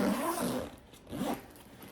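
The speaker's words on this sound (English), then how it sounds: "there is a zipper, like a little zip pouch off to one side here too" A zipper on the nylon inner pouch of a Chanel bag gives two quick, close zips, soft and scratchy, the second one shorter and quieter than the first.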